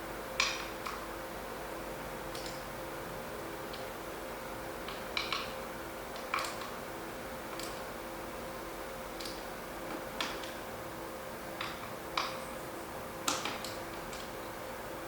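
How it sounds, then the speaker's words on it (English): A torque wrench tightens bicycle stem bolts with sparse, sharp ticks and clicks spaced a second or two apart, close and fairly quiet over a faint steady background hum. "then you should fully tighten your stem bolts, and it makes sense to do that with a torque wrench"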